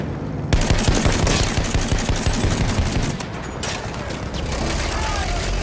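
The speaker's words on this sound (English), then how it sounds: "Enemy machine gun over there!" Sustained automatic machine gun fire from the World War I shooter Battlefield 1, with dense rapid bursts and booming battle noise filling the whole stretch, loud and continuous.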